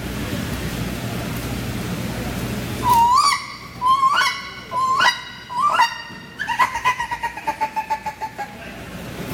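An imitated wood duck call: after a quiet start, four loud rising squealing whistles come close together, followed by a rapid run of shorter squeaky notes that fade toward the end.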